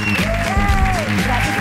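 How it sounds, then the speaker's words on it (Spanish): Studio audience clapping to welcome the guest Corny on a Spanish-language confession podcast show, a short burst of steady applause blended with a tonal musical sound. "Yo quiero que recibamos con un fuerte aplauso a Corny"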